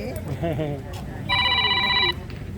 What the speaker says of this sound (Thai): รับโทรศัพท์ให้หน่อย